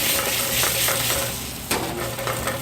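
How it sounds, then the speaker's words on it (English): White wine deglazing a pan after seared scallops, a loud continuous sizzle and hiss with a sharp clink of metal partway through. "Deglaze with a little white wine."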